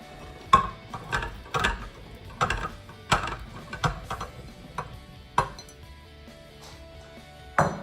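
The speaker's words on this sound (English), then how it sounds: "So I'm gonna go ahead and add the veggies" Vegetables and cutlery going into an Instant Pot, heard as a string of sharp metallic clinks and clatters, close and irregular, spaced across several seconds with quieter rustling between them.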